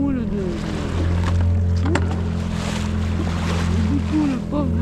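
A sailboat motoring through a swell with no wind, on a cruise along the Mediterranean coast toward Girolata: a steady low engine drone with water wash against the hull, and faint whistling tones over it.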